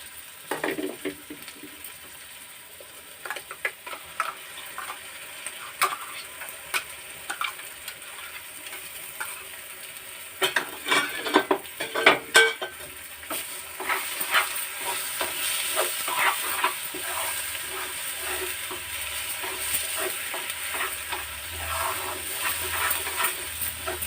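Spinach paste for palak paneer frying in a pan, with scattered scraping stirs and clinks early on, then a steady hissing sizzle with a low background hum in the later part.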